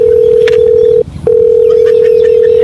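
A steady telephone dial tone sounds loud and continuous, cuts out briefly about a second in, then resumes and holds for the rest of the call attempt.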